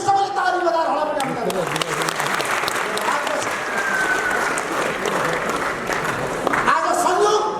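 Crowd applause at a Nepali political gathering, sustained clapping with raised voices mixed in, steady and fairly loud throughout, swelling again near the end.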